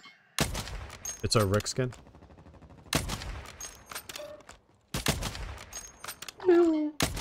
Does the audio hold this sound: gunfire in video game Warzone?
yes